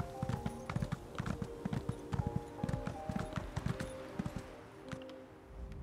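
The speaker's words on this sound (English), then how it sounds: "Easy, horse, easy." Horse hooves clip-clop at a steady walking pace in The Elder Scrolls Online, close and fairly loud against a game ambience with faint tonal music, with no talking.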